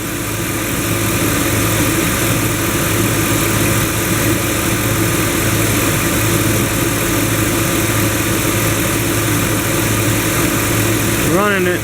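A 5.3 engine fitted with a new AC belt tensioner idles steadily in a garage, a continuous close rumble with a constant hum running the whole time.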